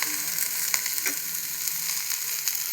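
Food fries in a pan with a steady, close sizzle, crackling with small pops and light stirring scrapes throughout.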